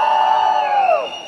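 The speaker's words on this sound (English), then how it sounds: "Let's have a round of applause." Audience at Deepika Padukone's launch of the Fiama Di Wills Couture Spa range: a loud, sustained whoop that falls away at the end, heard close over a cheering crowd.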